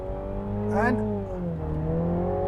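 A Mini GP3 hot hatch accelerating hard, its engine note rising in a steady climbing drone that swells briefly, then settles into a sustained close-up hum.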